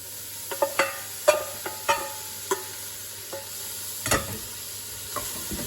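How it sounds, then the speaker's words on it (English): Shallots sauteing in hot olive oil in a pan, a steady sizzle under repeated sharp clinks and scrapes of a utensil stirring, with a louder clatter near the end; no talk. "I'm just going to throw in the shallots and just saute them until they get nice and soft."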